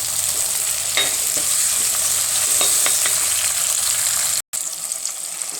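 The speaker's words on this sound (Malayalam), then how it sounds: "നമ്മുടെ സവാളയും തക്കാളിയൊക്കെ നന്നായിട്ട് വഴന്ന് കിട്ടിയിട്ടുണ്ട്." Continuous sizzle of onions and tomatoes sautéing in a pan, with occasional stirring clicks and a brief break near the end.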